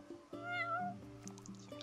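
A cat in Final Fantasy 15 lets out a single drawn-out meow, rising then falling, fairly close against quiet game ambience with soft background tones and no talking.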